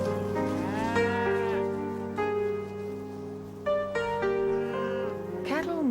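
Cattle low and bellow in long drawn-out calls on open ground with no trees, several animals overlapping in rising and falling moans, fairly close and loud.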